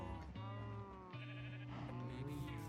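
A Minecraft sheep gives a quiet, wavering bleat that shifts pitch partway through, heard alone.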